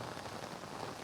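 Heavy rain pours down in Pune, a dense, even hiss of drops striking surfaces, steady and fairly faint, with no voices.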